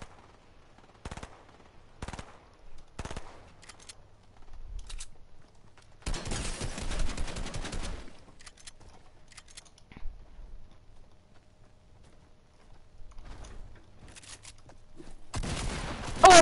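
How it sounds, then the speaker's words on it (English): Scattered bursts of gunfire, single shots and short rapid volleys with a longer burst in the middle, game-like and fairly quiet, no talking. "I hear gunshots."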